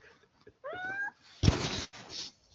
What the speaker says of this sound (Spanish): Tengo un Michi.